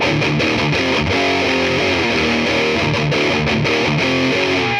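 A distorted electric guitar through a DOD 250 overdrive pedal with a swapped op amp plays a choppy riff of repeated chords and notes, loud and saturated, with only a faint hiss underneath.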